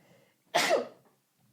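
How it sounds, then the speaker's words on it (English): One close, abrupt sneeze bursts out of near silence and trails off quickly. "Sorry, had to sneeze"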